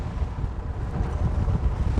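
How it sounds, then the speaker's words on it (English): Wind gusts buffet the microphone on open water aboard a Lomac Granturismo 12.5 maxi RIB during a boat test, a steady low rumbling roar that swells louder over the two seconds, with no voices. "Can you sense how the wind is increasing?"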